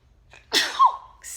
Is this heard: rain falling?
no